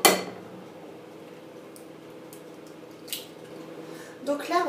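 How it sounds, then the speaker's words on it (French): Eggs cracked into a bowl for a quick chocolate lava cake: a sharp knock of shell on the bowl at the start, a faint tap a few seconds later, then a small clattery burst at the end in a quiet kitchen. "on va casser les œufs"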